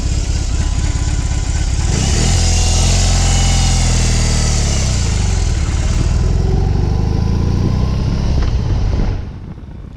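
A 2021 BMW R18 motorcycle's big engine and exhaust run loud and close. A deep rumbling note climbs as the throttle opens and holds steady, then cuts away near the end, with no one speaking.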